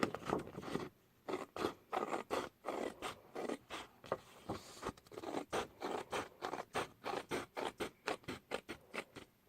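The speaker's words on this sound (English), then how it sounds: "So I'm going to cut all down here." Scissors cut through 12x12 paper in a quick series of close, crisp snips and scrapes, steady and rhythmic with short pauses.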